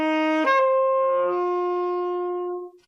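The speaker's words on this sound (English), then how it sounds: "otherwise you'll squeak and it'll sound like this." A saxophone sounds a single sustained note, played with the G key pressed down late, so it starts with a brief squeaky harmonic jump before settling into a steady tone that fades out near the end. No talking.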